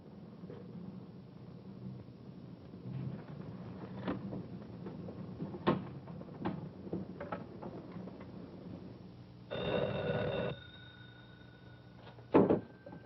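A telephone rings in bursts, its tone rising over a low background rumble, with a few sharp knocks and clicks scattered around it.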